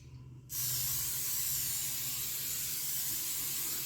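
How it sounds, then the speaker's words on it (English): A steady, loud hiss of cooking spray onto a baking pan runs continuously for about three and a half seconds after a brief quiet start, with a low hum underneath. "We're going to spray our pan."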